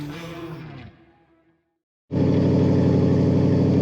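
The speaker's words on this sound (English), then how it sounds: "Today we're driving a 1936 Pontiac Coupe." A 1936 Pontiac Coupe street rod engine bursts in loud and close after a short silence, a steady, heavy rumbling roar, with a fading earlier sound beforehand.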